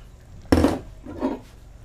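A spoon stirring willow ptarmigan soup with diced potatoes in a pot: one clear clunk against the pot followed by a softer scrape, close and fairly quiet.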